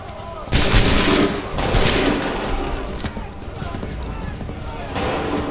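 Musket volleys crack loudly in the Assassin's Creed III Remastered video game, with a sharp burst followed by several more booming shots and a rumbling battlefield backdrop.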